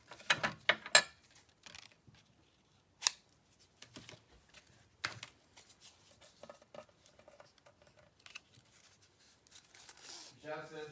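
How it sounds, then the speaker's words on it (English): Scissors cutting a small piece of ribbon for handmade Christmas gift tags, producing a quick cluster of crisp close snips at the start followed by scattered handling clicks, with people talking throughout. "Cut ourselves a little piece of ribbon."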